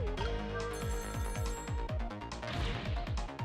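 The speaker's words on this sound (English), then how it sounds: "unless the phone is still ringing" A telephone rings repeatedly in the video game Ghost Trick: Phantom Detective, its bell trilling steadily over loud, busy game music with no talk.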